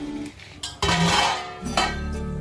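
A metal lid clanks onto a pan of egg curry. Sharp metallic knocks and a short scrape come from close by, then the lid settles and a low sizzle continues under it.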